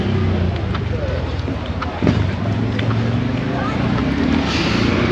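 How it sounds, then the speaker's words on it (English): A Valiant car pulls away from a cars-and-coffee meet, its engine a steady close rumble with some wind buffeting and a brief bump midway, fading little over the few seconds. "Oh, nice Valiant leaving."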